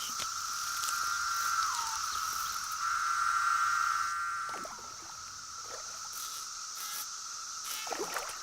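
Periodical cicadas emerging after 17 years fill a forest with a dense, steady, shrill chorus that holds loud at first, then dips slightly and continues, with faint rustles beneath.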